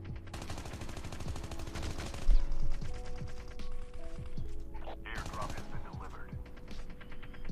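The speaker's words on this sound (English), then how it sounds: "Oh, dude shooting right here." Rapid automatic gunfire from a Call of Duty match rattles in bursts alongside single shots and mechanical clatter, loud and close, with a player talking over the action.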